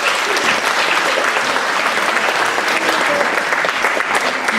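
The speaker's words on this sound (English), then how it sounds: "give her a round of applause" Loud, dense applause from a theatre audience at a clairvoyance stage show in Gainsborough, continuous and crowded throughout, with faint voices mixed in.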